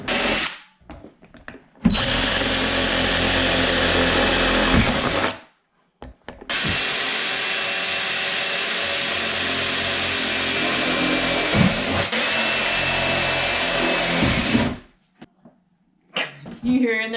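A power drill bores rows of holes into a plastic worm farm bin in two long, loud, whining bursts separated by a short pause, with brief quiet gaps and small clatters at either end.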